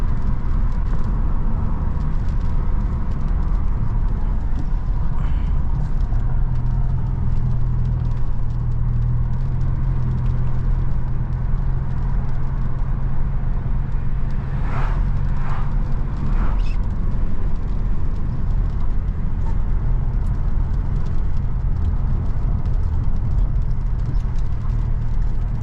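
A modified BMW F30 320i drives at night in the rain, a steady low engine and tyre rumble over a constant hiss of wet road and rainfall, with a few brief higher clicks partway through.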